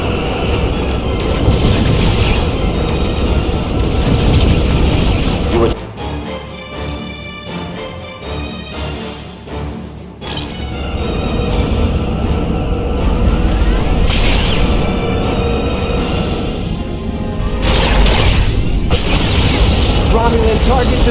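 Starship weapons fire and explosions tear apart a Romulan vessel in the Star Trek Legacy space combat game, a loud continuous rumble of booms and blasts with a brief dip midway, under a game score.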